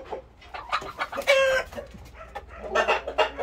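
Chickens in a coop cluck and squawk in short close bursts, with a rooster's crow rising briefly in the middle, the birds busy and noisy over quiet background with no talking.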